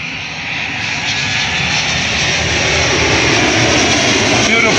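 A Mango Airlines Boeing 737 jet passes overhead at the Stellenbosch airshow, a loud sustained engine roar that builds steadily and fills the whole clip.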